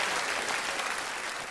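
An audience claps for the mayor at a Dutch music show, a dense, even burst of applause that stays loud and close throughout.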